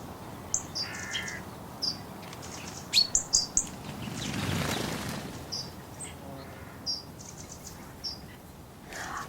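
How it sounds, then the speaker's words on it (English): Small birds chirping in short, bright tweets scattered across the clip, with a quick run of calls near the middle, over a steady bed of insect or cricket noise and soft outdoor ambience. "Some birds landed on the edge of the basket."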